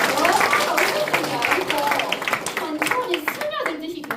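Audience clapping at a regional policy talk event in Jung-gu, Daegu, a lively patter of hands close by, mixed with voices and chatter, including a voice, throughout.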